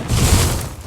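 Free Fire game gunfire, a loud, dense, booming burst of shots lasting about a second, heavy in the low end.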